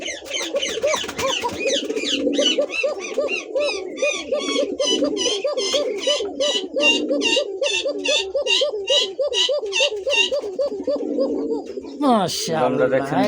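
Aerobian pigeons, a hen sitting on two eggs, coo in a long run of close, rhythmic throaty calls with people talking over them, ending in a brief louder scuffle.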